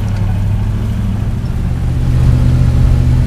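A tired old truck engine that burns oil drones steadily and loudly while driving, its low rumble constant with a slight swell toward the end, and no voices.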